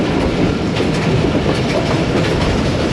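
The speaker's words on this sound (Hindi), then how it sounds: "सिस्टर ट्रेन का क्रॉस हुआ है 48/47।" A passenger train on the Rawalpindi to Lalamusa line passing a sister train at a crossing, a loud, continuous rumble with rhythmic clickety-clack of wheels on rails, heard close by from on board without pause.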